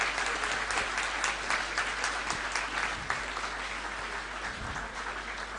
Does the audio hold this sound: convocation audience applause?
yes